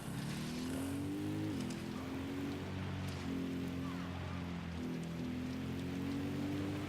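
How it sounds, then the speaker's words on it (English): Steady motorcycle engine drone while riding in the game Ghost Recon Wildlands, a continuous low hum with slight pitch shifts as throttle changes, fairly quiet and alone. "I'm riding the motorcycle."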